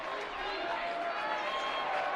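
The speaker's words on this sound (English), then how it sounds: "Crowd getting into it now." Steady crowd noise fills a high school boys basketball gym, a broad continuous roar of cheering and chatter that stays loud and even throughout, with no single voice standing out.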